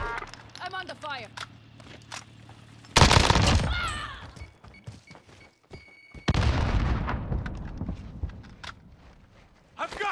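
Gunfire in the Call of Duty Warzone video game, with sharp bursts of shots and booming impacts in two loud stretches, alongside footsteps, while players talk over it.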